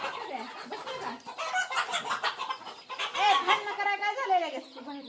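Chickens cluck and murmur continuously close by, a busy flock with overlapping calls.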